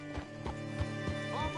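Horse hooves clip-clop at a steady walking rhythm in Red Dead Redemption 2, a few close, fairly loud thuds against a constant low musical drone, with no talk over them.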